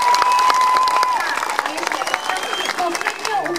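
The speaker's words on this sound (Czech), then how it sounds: "Takže ještě jednou velký potlesk pro Danielu Kajovou" Audience at a karaoke event applauding a singer, a burst of dense clapping with cheers and shouts, loud at the start then breaking into scattered claps and excited voices.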